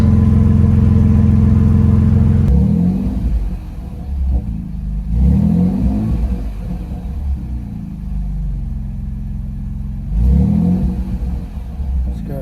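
A 2024 Ford Ranger's 2.7L engine revs through an aftermarket muffler in place of the factory one, giving a deep, loud exhaust rumble with three distinct throttle blips that swell and fade over a steady idle.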